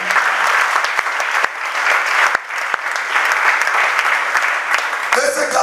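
A church congregation applauds during a sermon, a loud, sustained burst of clapping with a few sharp individual claps standing out and a brief shift in texture near the end.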